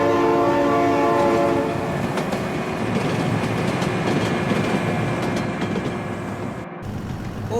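A train passing and sounding its horn, a loud sustained horn blast at the start over the heavy rumble and clatter of passing rail cars, which continues steadily to the end.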